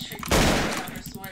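Burst of video game gunfire from a long-range shooter, a sharp loud blast that sustains briefly and then decays into noisy tail.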